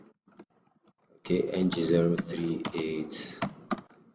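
Light, scattered clicks of typing on a computer keyboard open the clip, then a person starts talking and the voice dominates, with a few more key taps audible under and between the words.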